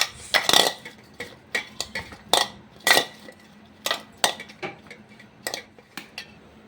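Chopped onion and coriander being mixed in a bowl: a spoon scrapes and clinks against the bowl in quick irregular strokes, close and clear with no talking.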